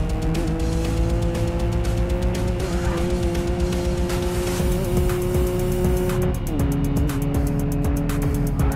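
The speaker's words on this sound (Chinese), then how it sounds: "方向打死，然后做一个小飘。" Nissan R32 drifting with handbrake taps in the Racing Master racing game: a steady, loud engine drone with shifting pitch and tire squeal, continuous throughout with no talk.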